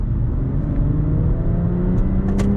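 A turbocharged engine in a 2017 BMW 440i coupe pulls hard under acceleration, giving a steady, continuous low drone with a slight upward climb, heard up close with no talking.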